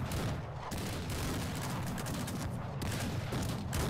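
Soldiers in a video game firing guns in a dense, continuous fusillade, loud and close throughout with overlapping shots and no clear gaps.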